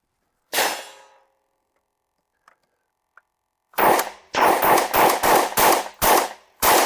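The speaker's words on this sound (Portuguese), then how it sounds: "Vamos recarregar." An FN P90 rifle is reloaded: a sharp metallic clack comes first, then a few faint ticks, then a rapid series of about eight loud, close, sharp bangs or clacks.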